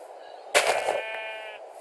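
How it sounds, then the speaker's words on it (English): Minecraft sheep giving a single loud, wavering bleat near the listener, rising sharply then holding a buzzy tone before trailing off, over a quiet steady game backdrop. "Sheep."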